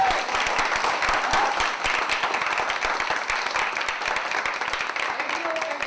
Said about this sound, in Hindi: एक बार जोरदार तालियां नहीं होनी चाहिए?